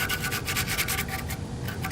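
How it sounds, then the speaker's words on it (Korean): 100-grit sandpaper rubs rust off a 2002 Hyundai Avante XD car muffler in steady, close, continuous rasping strokes with a rhythmic scratchy texture and no voices. "100번 사포를 문지르니까 조금 더 빨리 제거가 잘 돼요."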